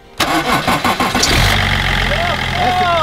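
A car engine cranking and catching after the fuel pump is tapped, a few loud stuttering turnover bursts that settle into a steady close idle, with someone talking over it.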